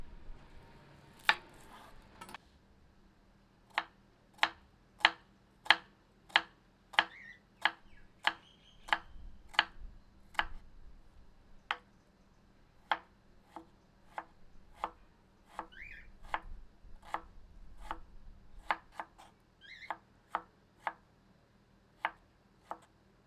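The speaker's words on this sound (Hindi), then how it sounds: "यह 5 छोटे आकार की प्याज हैं। इनको बारीक काट लेते हैं।" Five small onions are finely chopped with a knife on a board, crisp, evenly spaced chops ringing out one after another close up in a quiet room.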